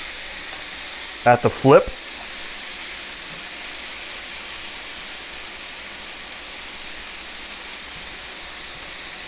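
Onions sizzling in burger grease in a skillet, a steady broad hiss throughout after a brief voice near the start, close and even.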